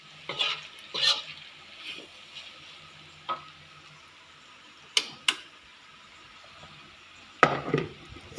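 A spoon stirs and mixes tofu stuffing filling with soup leaves in a bowl, giving several sharp scraping knocks spaced irregularly over a quiet background.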